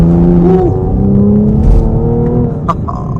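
A 2024 Chevy Camaro 1LT accelerating from inside the cabin, a loud steady engine drone with a clear pitch shift as it climbs through the revs, with no talking.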